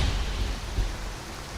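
Rain falling in Skyrim VR, a steady broadband hiss of drops with a faint low rumble underneath, continuous and even through the short stretch, with no voices.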